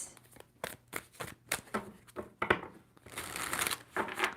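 A deck of tarot cards is shuffled by hand in quick riffling bursts, several crisp close rustles in a row, ending in a longer, denser flurry.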